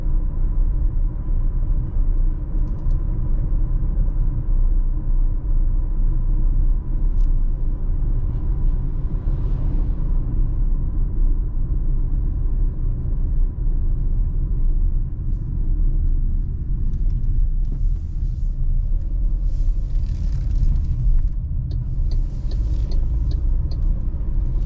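An MG ZST with a small 1.3-litre turbo engine cruises on the road, its steady engine drone and deep road rumble continuous and close throughout, with no talking.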